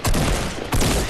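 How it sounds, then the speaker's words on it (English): Rapid gunfire in the Fortnite video game comes as two loud, dense bursts of overlapping shots in about a second, with no speech. "Oh, I'm shooting him"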